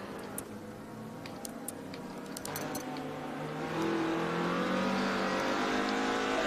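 A Group C race car circulating on a track, its engine note rising from a distant hum to a louder sustained drone as it nears, with light ticking sounds early on.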